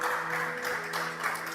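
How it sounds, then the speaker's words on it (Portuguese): A church congregation applauds briefly during a sermon, with a wash of clapping over sustained tones that sound like music. "Pode aplaudir o Senhor."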